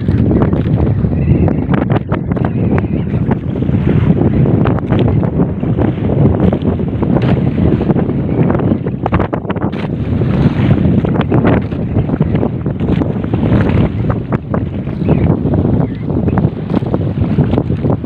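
Strong typhoon wind at sea buffets a small fishing boat, roaring continuously and loudly with gusty surges and water noise throughout.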